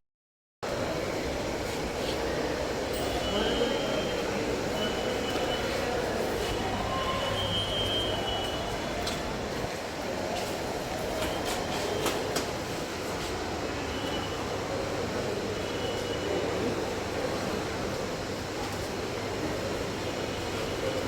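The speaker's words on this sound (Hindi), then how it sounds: "ये कौन सी ट्रेन लगी हुई है यहाँ पे?" A train at Ranchi railway station, a continuous rumble of rolling wagons with faint wheel squeal and clatter, steady and moderately loud throughout.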